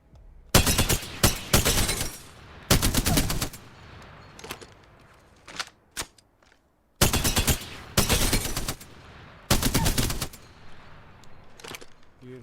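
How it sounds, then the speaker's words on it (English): Spitfire light machine gun firing full auto in Apex Legends, loud rapid bursts of gunfire in several separate volleys with short gaps and quieter mechanical clicks between them. "Spitfire is a full automatic weapon. Let's see go full auto."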